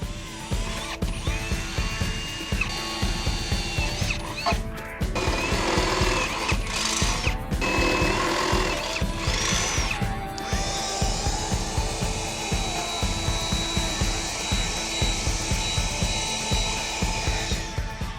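A power drill bores holes in a metal bracket in a vehicle alternator install, making a dense, rapid, ratcheting whine that runs steadily for the whole stretch, with brief pitch changes and pauses as the bit bites through the metal.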